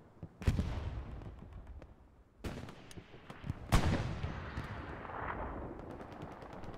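Artillery and gunfire in the video game Hell Let Loose target a heavy tank on Utah Beach, with three big booming blasts echoing amid scattered distant rifle cracks and rumble.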